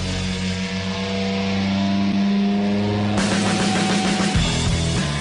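A Triumph Thunderbird Commander 1700 motorcycle engine runs at low revs with a steady, deep hum, then shifts to a rougher, louder tone partway through, heard alone without talk.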